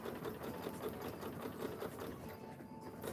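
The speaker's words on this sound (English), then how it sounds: "And I am sewing to right here." A sewing machine stitching a jacket runs steadily and close by, with an even, rapid rhythmic whirr and clatter that never stops and has no talk over it.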